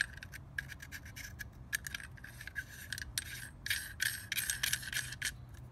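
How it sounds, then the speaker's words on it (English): A barrel nut being tightened onto an Aero Precision M4E1 upper receiver gives close, repeated rasping and scraping strokes in uneven bursts, quiet and with no talk. "you're gonna take your nut and you're gonna tighten that down"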